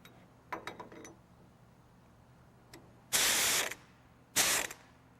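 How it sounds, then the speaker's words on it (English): Butterfly impact gun used while assembling a pulley sheave onto an adapter on a Besser machine: two short loud bursts of pneumatic hissing rattle, preceded by a few faint mechanical clicks. "I got my butterfly impact gun."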